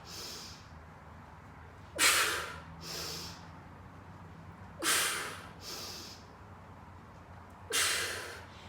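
Breathing during a back squat: three loud, sharp exhales, each followed by a softer breath, spaced about three seconds apart, close and without talk.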